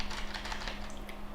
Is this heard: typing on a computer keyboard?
yes